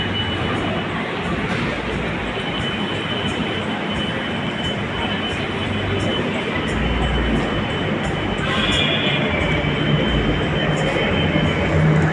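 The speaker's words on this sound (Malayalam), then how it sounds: "ഫൈനലി നമ്മുടെ മെട്രോ തട്ടോ വരുന്നത്" A metro train arrives at a station with a steady, loud rumble and roar that lasts throughout and rises slightly near the end.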